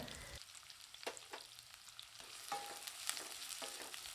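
Soft, steady sizzling of spices and curry leaves frying in hot oil with onions, with occasional light stirring taps and scrapes, quiet and close.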